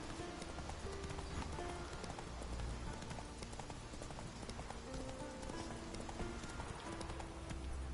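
Roach the horse gallops in The Witcher video game, hooves beating in a steady clip-clop rhythm over a dense, constant game soundscape with faint music, loud and close throughout.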